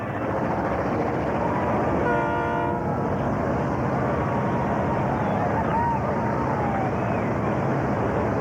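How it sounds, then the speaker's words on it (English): A train rumbles past steadily and loud, its horn sounding once in a short blast partway through, with a continuous roar of wheels throughout. "Oh, here comes the train, yeah."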